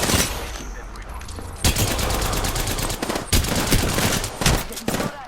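Bursts of gunfire in the Apex Legends video game, Season 3 battle royale, with Anvil rounds: loud, rapid repeated volleys and shots crackling over several seconds, with a voice speaking in between.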